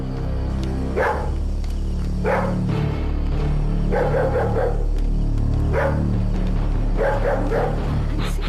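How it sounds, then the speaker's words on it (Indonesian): A dog barks in repeated bursts of several yaps, moderately close, over a steady low hum in an Indonesian drama setting. "Terus kenapa tuh anjing menggonggong terus?"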